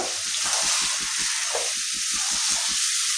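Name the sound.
hilsa fish being fried with mustard paste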